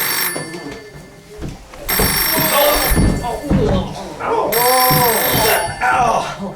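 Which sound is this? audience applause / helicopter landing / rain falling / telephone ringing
telephone ringing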